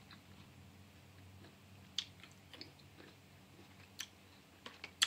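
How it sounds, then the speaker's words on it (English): Green grapes being chewed close to the mouth, giving a faint run of wet, crisp crunches with a few sharper snaps standing out against a quiet background, and no talking. "I don't know if y'all can hear that crunch."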